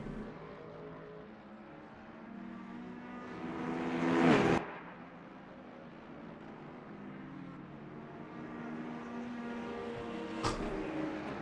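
A race car in the racing game Le Mans Ultimate overtakes, building to a loud roaring pass that cuts off abruptly. A steady engine drone follows, and a second brief burst of noise comes near the end.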